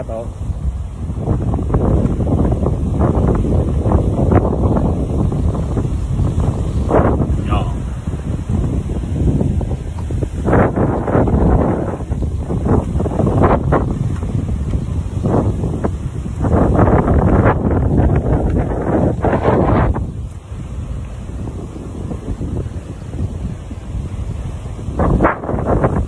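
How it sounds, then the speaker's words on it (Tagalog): Strong wind buffeting the microphone on a seashore at Barangay Balite, Calapan City, Oriental Mindoro, a continuous loud roar with gusts, waves faintly underneath and someone talking over it. "Malakas yung hangin."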